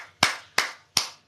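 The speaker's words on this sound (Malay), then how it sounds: "Saya ingin beri tepukan gemuruh" Three or four crisp, close hand claps ring out at a slow, even pace, each one distinct and separated by silence, sounding like a single person rather than a full audience.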